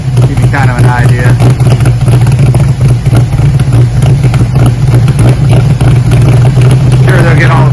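A 1984 Jeep CJ7 with a Magnaflow muffler runs slightly rough while loading up fuel, giving a loud, steady, close exhaust rumble at idle that holds for the whole stretch.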